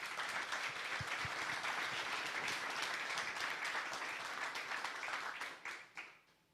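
A conference audience in Košice applauds, a full crowd of clapping hands sustained for several seconds before quickly tapering off to quiet.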